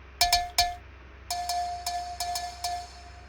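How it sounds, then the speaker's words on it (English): A dry cowbell sample from the Black Octopus Leviathan world percussion library, struck alone in a loose pattern of about nine clear metallic hits with short bright ring, several ringing longer, no talk. "the dry cowbell"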